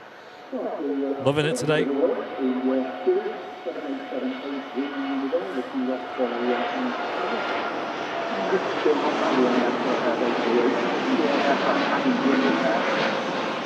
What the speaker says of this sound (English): Also got his TUI Dreamliner on the roll as well.